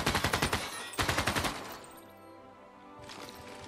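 Machine gun units in Civilization VI firing two rapid bursts of sharp rattling shots, then a lull and a further burst of gunfire starting near the end.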